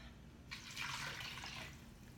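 Bone broth poured into a soup pot of lentil soup with bay leaf, cumin and tomatoes, a brief splashing pour that starts abruptly and fades after about a second, fairly soft.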